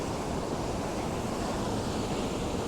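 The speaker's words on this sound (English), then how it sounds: "It's a large stone that goes all the way across the creek, and it's forming little waterfalls along its" Creek water pours over a large stone spanning the stream and forms small waterfalls, giving a continuous, even rushing splash that is close and steady, with no voices.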